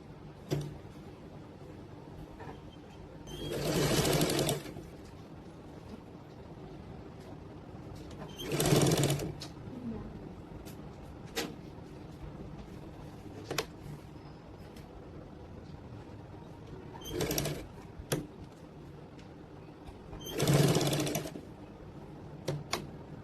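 A sewing machine stitches a decorative design onto a suit hem, running in four separate whirring bursts of a few seconds each, with quiet pauses and small clicks of handling between them.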